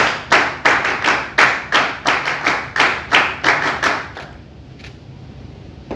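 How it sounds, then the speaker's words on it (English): NCC cadets clap in unison at an honouring ceremony, about a dozen loud, sharp, evenly spaced claps in a steady rhythm, then quiet with one faint last clap. "NCC clap shuru kar"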